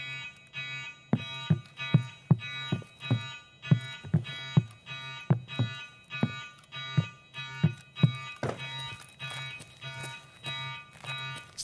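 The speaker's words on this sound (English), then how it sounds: "This next alarm you're hearing is above us." An alarm in the video game Escape From Tarkov sounds as a steady series of evenly spaced, pulsing tones, repeating about twice per second, loud and continuous throughout.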